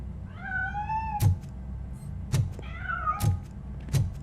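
A cat meows twice in the video game Robocop: Rogue City, with drawn-out rising cries. Heavy metallic footsteps thud at regular intervals between and over the meows.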